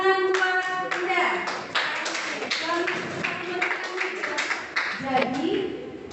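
Clapping from a vocational school classroom during a lesson, a short burst of hand claps with voices talking through it, close and fairly loud.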